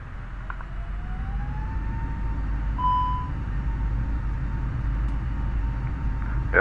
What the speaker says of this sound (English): Aircraft is beeping.